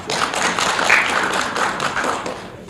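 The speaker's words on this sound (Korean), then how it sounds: "박수 한번 주시죠." An audience at a Gangneung resident self-governance forum claps for a city council member being introduced, a dense burst of many hands clapping that holds steady for a few seconds.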